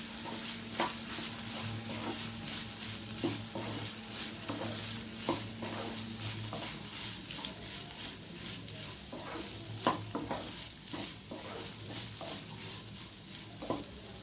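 Carrots and beans fry and sizzle steadily in hot oil, with a continuous crackle broken by scraping stirs of a spoon against the pan, close and alone without any voice.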